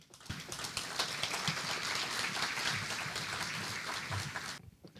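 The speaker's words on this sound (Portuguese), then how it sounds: "uma salva de palmas à nossa primeira palestrante, Irvana Albuquerque Guerra" Audience applause at a professional events seminar greeting the first speaker, a continuous wash of clapping that stops abruptly near the end, fairly faint.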